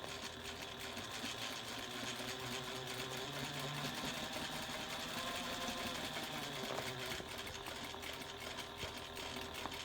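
A sewing machine runs a reinforcement stitch in one continuous steady whir. The motor hum holds even throughout with no pauses.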